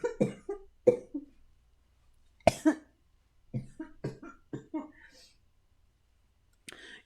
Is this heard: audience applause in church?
no